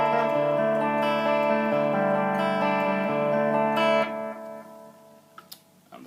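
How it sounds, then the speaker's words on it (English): Electric guitar through a delay pedal alone, without chorus, playing sustained chords that ring with echoes for about four seconds before fading into quieter decaying repeats and a few small picking noises. "Just the delay without the chorus sounds like this."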